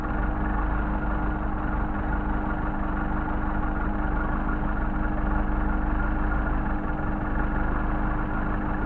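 Mercedes 190SL engine with Solex carburetors running at a steady, loud idle-to-raised speed, an even continuous drone with a constant low hum and no voices over it.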